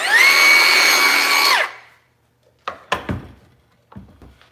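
A Milwaukee power saw with no blade fitted whines loudly and is halted quickly by its electric brake, followed by silence and a few sharp clunks and knocks.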